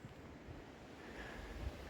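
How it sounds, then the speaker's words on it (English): Steady wind blows on a bright, breezy day outdoors near a campfire, a soft continuous rushing with low gusty rumble against the microphone. "Very windy"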